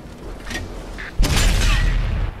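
A single heavy cannon shot from an M103 tank in World of Tanks booms out loud and close, its blast trailing into a sustained rumble after a quieter mechanical lead-in.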